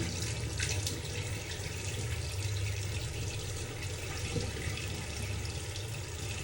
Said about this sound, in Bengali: আমি একটু হাতটাকে ধুয়ে নিব হ্যান্ড ওয়াশ দিয়ে, যাতে এটা বের হয়ে যায়।